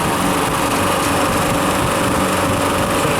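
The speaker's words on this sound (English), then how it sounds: "I think it's got a weak compressor." A refrigeration compressor with a weak compressor runs as a loud, steady, close mechanical drone that holds constant throughout, with no speech.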